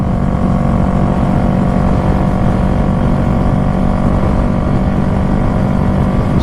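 A Yamaha MT-25 motorcycle engine idles close by, a loud, steady, unbroken rumble that holds an even pitch throughout with no talking.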